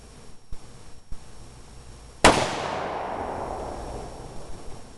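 A single sharp .243 rifle shot cracks loudly outdoors and trails off into a long decaying echo, after a couple of softer clicks and thumps from handling the gun.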